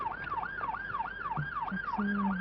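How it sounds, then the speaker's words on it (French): A wailing siren rises and falls in a steady repeating whoop, fairly loud, with traffic noise and a brief horn-like tone beneath, on a street in New Orleans. "Entendez-vous les sirènes à Paris?"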